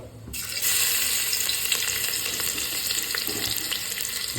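Crushed ginger, garlic and chili mixture sizzling in hot oil after mustard seeds have popped, for upma; a steady close crackle with occasional pops and light stirring, no talk.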